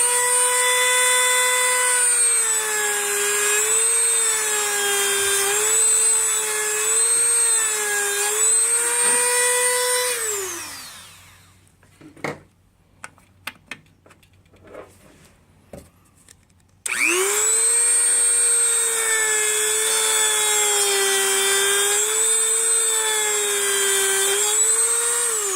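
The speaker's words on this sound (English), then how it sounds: "So we're taking a Dremel tool and filing it out a little bit so that it fits." A Dremel rotary tool files down a small piece, its high whine wavering under load for about ten seconds, then spinning down into a pause of light taps and clicks before starting up again at full speed.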